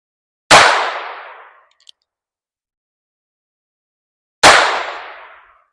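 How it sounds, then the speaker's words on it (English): Two loud, sharp .22 LR rifle gunshots from CCI ammunition, first a 40-grain standard round and then a 32-grain Stinger, spaced about four seconds apart, each cracking close by and trailing off in a brief echo. "The first shot is going to be our standard 40 grain CCI LR, 22 LR, and the second one is going to be the 32 grain CCI Stinger"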